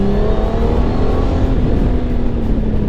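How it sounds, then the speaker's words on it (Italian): A 2018 Honda Gold Wing GL1800 touring motorcycle revving on a road, a loud, close, sustained engine drone with rising and falling pitch, steady throughout with no talking. "E il motore che urla è davvero bellissimo."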